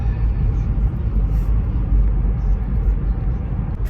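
A car driving along a road in the evening, a steady close low rumble of engine and tyres that holds throughout with no break.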